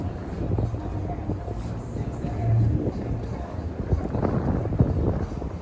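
Gusty wind on a freezing night in Manhattan buffets the microphone with low rumbling bursts, rising and falling over several seconds of outdoor noise.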